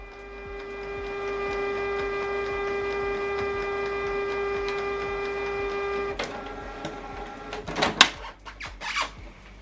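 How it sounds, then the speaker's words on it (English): Canon PIXMA MG3650 all-in-one inkjet printer switched on and running, a steady close mechanical hum with tonal whine for about six seconds, then a click and several sharp whirring carriage movements near the end. "Switch the printer on."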